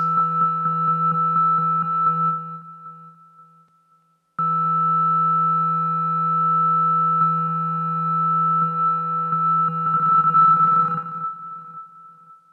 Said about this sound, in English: Echo gives you note feedback and echoes your input.